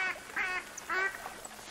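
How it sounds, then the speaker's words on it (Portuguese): Ducks quacking in the hunting game theHunter: Call of the Wild, a few short nasal calls in two bursts at moderate distance, with no talking over them. "Já tem pato cantando aqui, galera."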